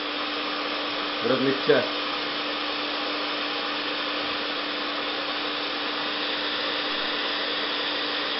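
A household hair dryer blows hot air onto a 12-gauge shotgun shell, giving a constant close whooshing drone with a steady hum. Someone speaks briefly near the start over it.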